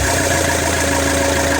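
A Peugeot Boxer with a 2.0 HDi 86 hp diesel engine, previously suffering a crank-no-start fault, runs at a steady close idle, a loud, even rumble with a faint rhythmic knock and no speech.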